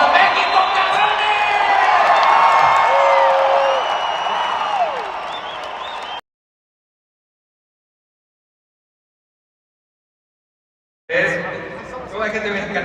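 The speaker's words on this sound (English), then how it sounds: "Canelo, you've heard the support of the crowd." A Mexican crowd roars and cheers for Canelo at the Canelo vs Crawford press conference in Las Vegas, a loud sustained din with whistles and shouts that cuts to silence, then bursts back in.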